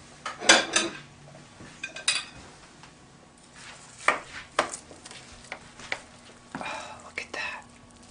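Plate and spoon handled while serving a side dish: scattered close clinks and scrapes of cutlery on dishes, separated by quiet gaps, with soft low voices in places.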